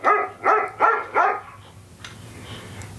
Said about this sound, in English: Here's what a dog sounds like.